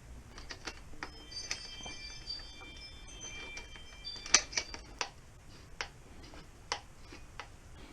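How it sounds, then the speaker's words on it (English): Lock nuts are tightened on a DRZ400 motorcycle rack, with faint, scattered metallic ticks and small ratcheting clicks at an irregular rhythm, heard close but quiet, with no speech. "you just go ahead and put your lock nuts on the bottom and tighten it all up"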